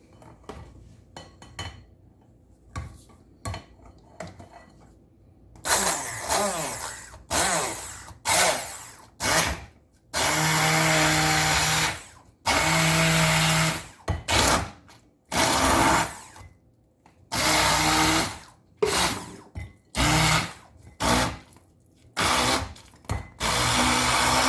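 A kitchen grinder's wheel crushes and grinds ingredients for an Arabic breakfast dish, running in loud, harsh bursts that start and stop repeatedly, with short quiet gaps between the runs.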